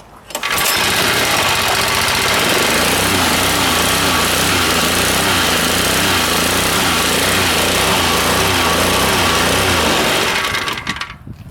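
An Evolution Hulk petrol plate compactor roars to life after a pull start and runs steadily at close range, its loud engine drone holding for about ten seconds before cutting off.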